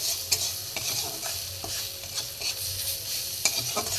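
Grated ginger with ground spices, salt, cumin, coriander, garam masala and sugar sautéed over low heat in a pan, a soft continuous sizzle broken by light, regular scrapes of a stirring spoon, close and with no voices.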